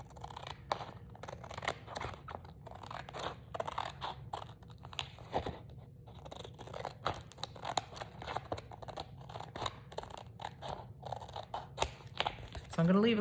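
Scissors snip repeatedly while trimming a journal cover, giving close, irregular cuts and crisp paper crunches, mixed with handling noise and occasional talk.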